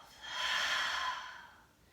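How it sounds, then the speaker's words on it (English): A single long breath is pushed out through the mouth during a yoga session, a soft airy whoosh that swells and fades over about a second, close and without talk. "Exhale with your mouth."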